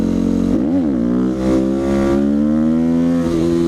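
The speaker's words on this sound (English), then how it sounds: "Let's see if I can still wheelie as good as I used to be able to here." A motorcycle revving hard during a wheelie, a loud close engine note that dips and swells with throttle changes before holding a strong steady drone.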